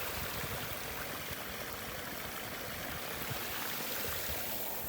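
Steady rushing water from a small garden waterfall on a patio fills the scene, a constant close splashing hiss with no pauses or voices.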